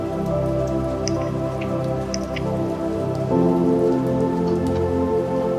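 Steady rain falls on a surface on a grey, rainy day, a continuous even patter with scattered distinct drips and no voices, growing slightly fuller partway through.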